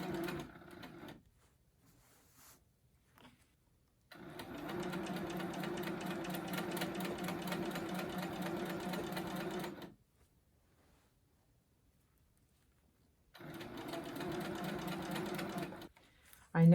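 A domestic sewing machine does free-motion quilting with a ruler, cream thread on cream fabric under a heavy quilt. Two bursts of fast, steady stitching, each several seconds long, are separated by near-silent pauses.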